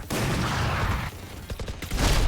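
Rapid gunfire in the shooter game Valorant, a dense, loud burst of overlapping shots that briefly dips and then surges again at close range.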